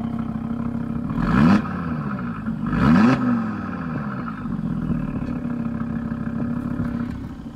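A warmed-up SAAB engine idles steadily, then is revved twice in sharp, close bursts that rise and fall before settling back to a rumbling idle.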